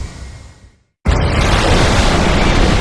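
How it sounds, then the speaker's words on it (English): A sudden, massive explosion in the Killzone 3 video game bursts in after a brief silence, then roars on as a loud, sustained rumbling blast. "You guys ever think of leaving before the explosions start?"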